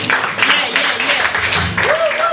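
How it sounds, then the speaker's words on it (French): Applause at a fifteenth birthday celebration, a busy patter of clapping mixed with voices and a rising, singing-like tone near the end, fairly loud and close. "Vous allez applaudir pour vous-même."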